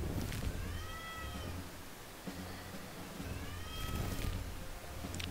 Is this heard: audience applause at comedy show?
no